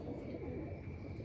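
Domestic pigeons in a Lahore loft, gol ghere breed birds, cooing in a low, continuous rumbling murmur that runs steadily through the whole short stretch at close range, with no voices.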